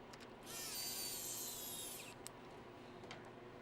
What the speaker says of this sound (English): let's put these screws in real quick so it doesn't fall apart on us.